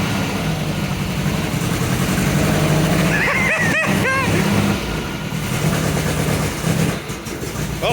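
An MGB engine runs in gear with the car up on jacks, a steady close, loud drone with a brief rise in revs partway through and speech-like sounds over it.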